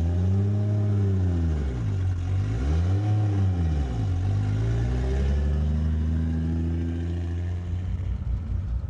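A 1000 rwhp widebody Toyota Supra engine revs loud and close, its pitch climbing and dropping in several swells before settling into a steady, rising drone with no talk.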